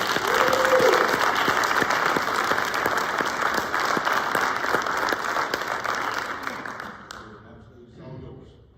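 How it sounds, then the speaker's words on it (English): Round of applause from a crowd at a high school football lineman's college signing event, dense steady clapping that holds strong then tapers off and fades out near the end. "give him one round of applause before we finish"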